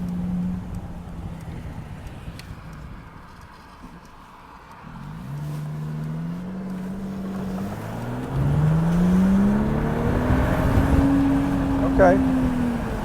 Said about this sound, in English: I'm gonna put my window down here so I can hear a little bit of this car as we drive.